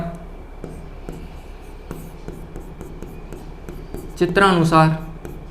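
A pen scratches and taps in short, evenly spaced strokes while a Class 12 NCERT electrostatics example is worked out. The strokes are soft and close, and a voice speaks briefly near the end.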